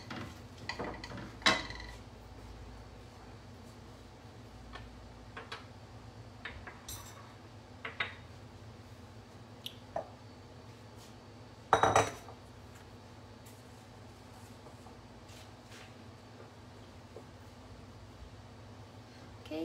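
Roasted nuts tipped from a tray into a bowl in a home vegan kitchen, giving scattered clinks and rattles of dish and utensil contacts, with one sharper clatter partway through over a low steady background hum.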